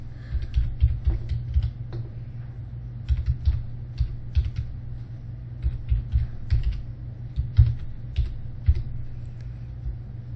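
Clicky keystrokes on a computer keyboard as an IAM username and password are entered, coming in irregular bursts of close, moderately loud taps with short pauses between, with no voices.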